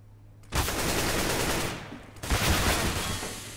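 Automatic gunfire rattles in a professional esports match of a first-person shooter game, in two dense, loud bursts separated by a brief lull.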